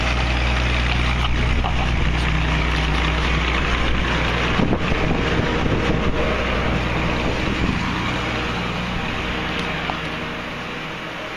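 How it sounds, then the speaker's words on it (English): A loud, steady mechanical roar of a running compressor fills the whole stretch, rough and broadband, easing slightly near the end. "Sorry about the noise, but that compressor's noisy."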